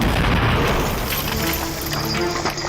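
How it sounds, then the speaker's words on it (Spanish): A replica medieval bombard cannon fires at a quarry test range, a loud, dense explosive roar that fills the whole stretch and rumbles on without a break. "De nuevo, la explosión estremece la cantera."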